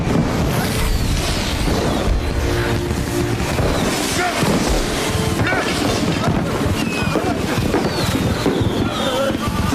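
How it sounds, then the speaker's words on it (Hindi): Fireworks bursting in a dense, loud, unbroken mix of crackles, bangs and whistling streaks, with voices talking underneath. "कितनी प्यारी आतिशबाजी है।"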